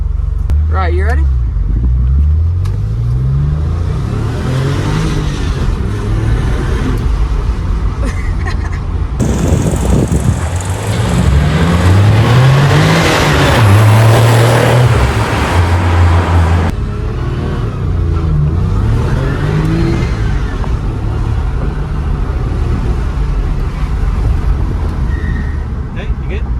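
A 1997 Porsche 993 Turbo S accelerates hard through repeated rising engine sweeps, loud and close, with a surge of wind and engine noise in the middle stretch and a voice talking throughout.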